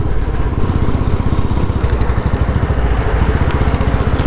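A motorbike rides along a wet, rain-soaked mountain road under construction, its engine thrumming steadily and loudly with a rapid rhythmic pulse and broad road and wind noise throughout.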